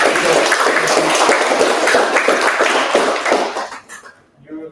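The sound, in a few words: audience applause after debate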